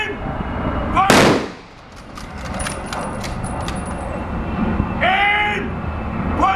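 A rifle volley fired by an honor guard at an outdoor military committal service gives one sharp, loud crack that fades quickly, with shouted commands heard nearby.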